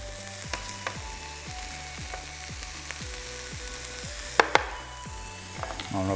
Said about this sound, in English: I'm gonna cook this up for a second and we'll be right back to assemble